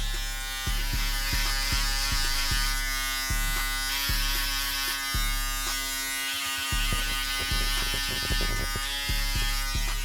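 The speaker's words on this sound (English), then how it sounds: "Followed up by the shaver to give it a more skin tight look." A steady electric shaver buzz runs close and continuously, with rhythmic low pulses and brief strokes as it passes over hair during a burst fade haircut.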